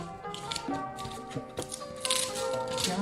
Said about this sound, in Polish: odklejam sobie tą folię z tyłu